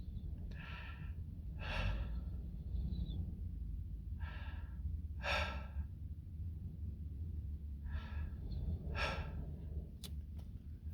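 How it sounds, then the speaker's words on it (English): A very old, gray-haired, bearded man breathes heavily in a room, with several slow, rasping breaths spaced a few seconds apart over a steady low rumble of background noise. "a very old man, with a beard and long hair, all gray, breathing very heavily"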